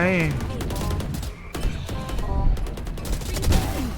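Gunfire from a Valorant match, sharp repeated shots and bursts scattered over a busy game mix, with a voice talking over the action.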